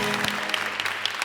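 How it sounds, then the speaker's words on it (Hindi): Studio audience applause on a New Year's talk show, a dense, steady burst of many people clapping at close range, brief and without talk. "है ना, तालियां भाई आयशा उमर के लिए"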